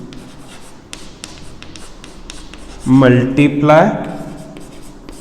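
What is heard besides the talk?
writing by hand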